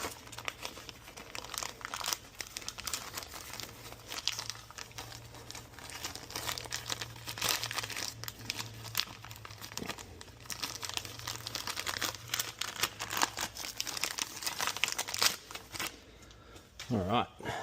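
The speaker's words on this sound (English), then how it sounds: "Couple of new gaskets. Packaging is pretty good." Crinkly packaging is torn open and crumpled to unwrap new exhaust gaskets for an HSV Clubsport, a continuous close rustling and crackling that runs for many seconds, with a person talking underneath.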